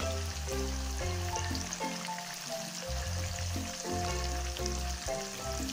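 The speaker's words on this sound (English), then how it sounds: "Be sure to flip and fry all other sides as well." Tofu frying in a pan, a soft continuous sizzle and crackle running beneath steady background music, fairly quiet and without talking.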